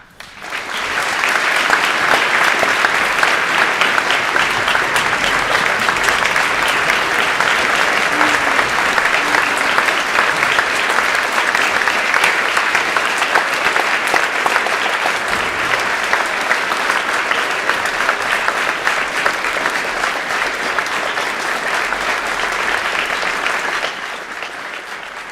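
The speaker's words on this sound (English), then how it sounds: "Please join me in giving our veterans one final heartfelt round of applause as they stand" A crowded audience at a school Veterans Day celebration delivers a long, unbroken round of applause for standing veterans, loud and dense for over twenty seconds before tapering off at the end.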